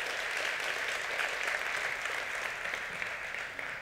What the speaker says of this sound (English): Tom, can we give him a round of applause again?